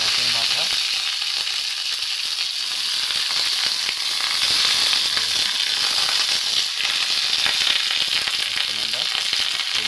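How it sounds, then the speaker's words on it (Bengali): A catla fish head fries in hot oil with a dense, steady sizzle and crackle that runs unbroken, close and fairly loud, with no talking. "তেলটা গরম হয়েছে, আমরা মাছের মাথাটা দিয়ে দেবো। কাতলা মাছের মাথা,"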